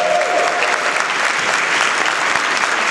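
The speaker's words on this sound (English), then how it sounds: "Let's give us a round of applause." Audience applause at a Bronx food summit, a crowd clapping steadily and fairly loudly throughout, with a faint brief tone near the start.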